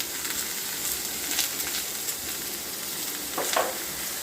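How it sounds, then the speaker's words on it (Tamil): Tomatoes sautéing in a pan for tomato thokku with salt and a pinch of asafoetida, giving a steady close frying sizzle with soft stirring scrapes and a brief louder crackle near the end. "போட்டு நல்லா தக்காளி நல்லா வதங்குற வரைக்கும் நல்லா வதக்கிக்கணும்"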